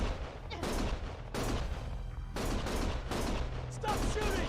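Heavy gunfire in the action video game Lost Judgment, with repeated dense bursts of loud shots and booming blasts that fill the whole stretch and leave only short gaps between volleys.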